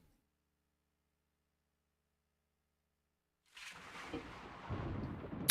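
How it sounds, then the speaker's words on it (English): Thunder demo sound effect from a Sound Blaster Live card on a Pentium III 1 GHz PC with a Voodoo 5, arriving after about 3.5 seconds of silence as a sudden loud rumbling crash that rolls on to the end. "that is the Soundmaster Live Thunder sound there"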